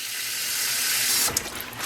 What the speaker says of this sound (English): I'm gonna add some dish soap and fill this up with water